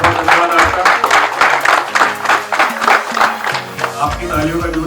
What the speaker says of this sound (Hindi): एक बार और जोरदार तालियां